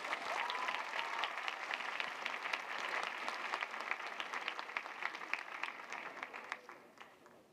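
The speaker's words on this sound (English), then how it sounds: "Round of applause." Steady crowd applause at an interreligious youth gathering in Singapore, fairly distant and dense, holding for several seconds before gradually tapering off.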